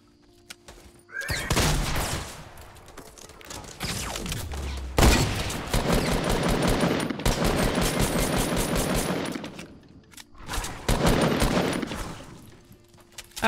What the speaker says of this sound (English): Someone else taking shots at us?